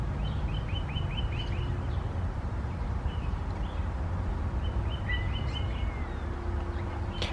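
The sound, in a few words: birds outdoors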